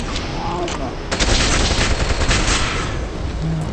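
Continuous loud gunfire from a sci-fi shooter game, a dense, close barrage of rapid shots that barely lets up across the whole stretch.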